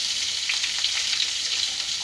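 Two medium chopped onions fry in hot oil for a biryani, giving a steady, dense sizzle with soft bubbling crackles and faint stirring, close and continuous with no voices.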